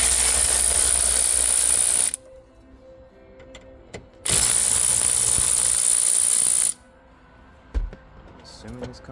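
A ratchet backing out 7mm bolts from the steering column of a 1998 Chevrolet K1500 truck, heard as two long, loud, rapid clicking runs up close, separated by quieter handling noises.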